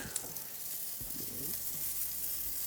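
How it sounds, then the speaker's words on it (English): Butter melting in a hot pan for a cheesesteak sandwich gives off a soft, steady sizzle, faint and continuous, with a few small crackles. "This butter is melting."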